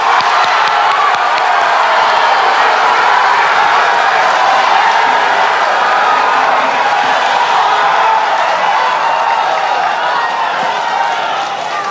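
Audience at a 2014 Indonesian presidential candidates' debate clapping and cheering in a sustained, dense wave of crowd noise lasting throughout, loud and steady without a break.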